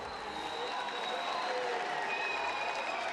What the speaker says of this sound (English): Big cheer goes up as he races past the Duomo